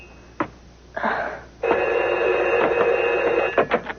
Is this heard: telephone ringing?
yes